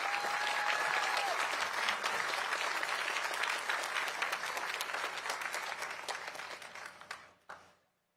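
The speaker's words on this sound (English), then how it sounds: "Let's give all our district teachers of the year a round of applause." Sustained audience applause for district teachers of the year at the South Carolina Teacher of the Year ceremony, a broad, steady wash of many clapping hands that gradually thins and stops near the end.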